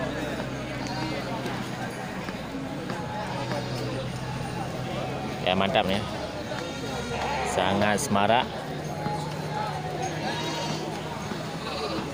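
Male goats at a livestock market on an early morning during the Maulid month, a couple of brief bleats rising out of steady crowd murmur, with someone talking throughout.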